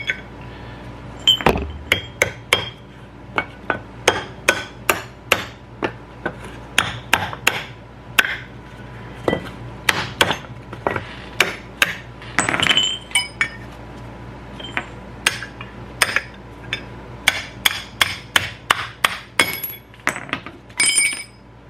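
An old bolt is forced through a bolt hole in a tandem trailer axle during a wet bolt kit install, giving a long irregular series of sharp metallic taps and clinks, close and loud, with no talking.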